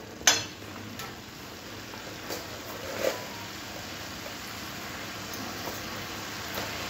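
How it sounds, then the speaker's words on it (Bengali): Sugar is stirred into a finished spinach and vegetable curry in a pan, with a low steady sizzle, a sharp clink at the start and faint occasional scrapes of the spoon. "চিনিটা দিয়ে খুব ভালো করে মিশিয়ে নেব।"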